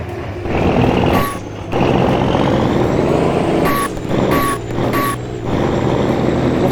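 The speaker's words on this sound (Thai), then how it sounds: "เบรกโคตรยากเลยท่านผู้ชมแสดงว่าหนัก" A heavily loaded heavy truck in a farming game brakes hard, with loud engine rumble, repeated sharp air-brake hisses and reversing-style beeps sounding several times, close and continuous.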